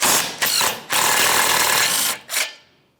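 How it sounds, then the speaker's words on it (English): A ratchet wrench removes the last mounting nut on a front bumper impact absorber bracket of a 2012-2018 Nissan Altima, giving loud, close, rapid clicking bursts separated by short pauses before tapering off. "Now we'll finish removing our final mounting nut that we had loose"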